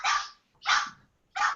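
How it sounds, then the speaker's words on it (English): A chihuahua barks three times in short, sharp bursts separated by brief pauses, loud and close, with no other sound between the barks. "That was not a wolf. That was a chihuahua."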